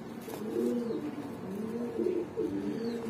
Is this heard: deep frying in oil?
no